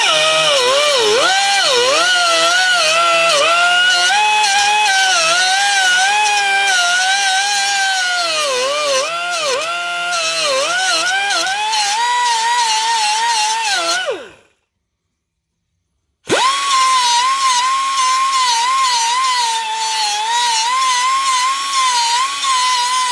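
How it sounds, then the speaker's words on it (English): An angle grinder grinds down high spots on a bent tie rod, a loud, harsh, wavering whine that runs for about fourteen seconds, cuts out briefly and then starts up again at full volume. "I'm just going to grind down the high spots just to get me through"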